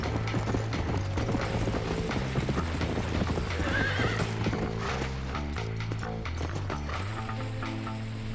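Horse hooves clip-clop in a steady, continuous gallop rhythm in the Red Dead Redemption video game, loud and close, with tonal background sound throughout and no talking.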